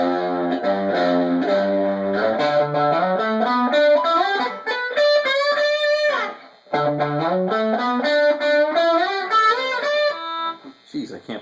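Electric guitar through mild distortion playing a riff, a fast run of picked notes climbing and repeating in phrases, with a brief pause midway; close and solo.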